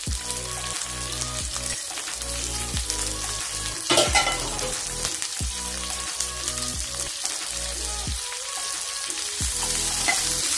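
Ivy gourd (tindora) pieces fry in hot oil with turmeric in a pan, a loud, close, continuous sizzle broken by the repeated scrape and clatter of stirring, with no voices.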